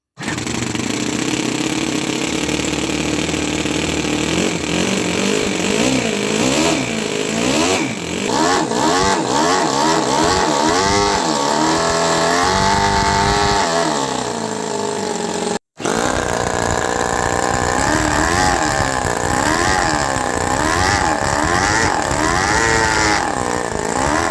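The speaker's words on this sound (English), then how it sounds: "Hopefully this exhaust system is also gonna change the exhaust note of the engine." A 7cc two-cylinder model engine fitted with a 3D-printed reinforced-nylon exhaust runs loud and close for over twenty seconds, a buzzing high-revving note that repeatedly swings up and down in pitch, with a brief cut partway through.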